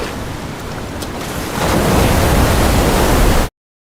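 Ocean waves roll through a film scene, a broad steady wash of surf that swells louder halfway through and then cuts off abruptly, with no voices over it.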